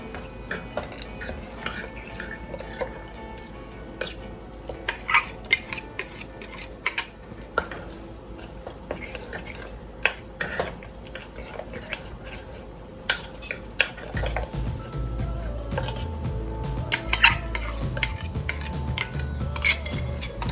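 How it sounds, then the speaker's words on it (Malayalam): Unniyappam batter is stirred and poured, with scattered metallic clinks and taps of a spoon against a vessel. A low, steady rumbling layer comes in toward the end. "ഒഴിക്കുമ്പോൾ ശ്രദ്ധിക്കേണ്ടത് നല്ലോണം ഇളക്കിയിട്ട് ഒഴിക്കുക"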